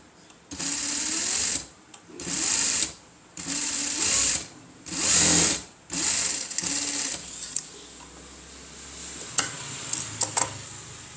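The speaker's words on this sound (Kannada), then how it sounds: "ಸುಮ್ಮನೆ ನಿಮ್ಗೆ ತೋರಿಸೋಕ್ಕೋಸ್ಕರ ನಾನು ಇದನ್ನು ಹೊಲಿದು ತೋರಿಸ್ತಾ ಇದ್ದೀನಿ ನೋಡಿರಿ" Sewing machine stitching thread piping, running in repeated bursts of a few seconds each with short pauses between, loud and close, then tapering to light clicks and handling at the end.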